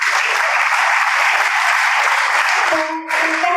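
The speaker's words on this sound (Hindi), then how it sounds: "माइंड की एक बार जोरदार तालियां इनके लिए।" A large audience at a motivational speech for board students breaks into loud, dense, sustained applause that fills the hall, then thins abruptly near the end as a short tonal sound cuts in.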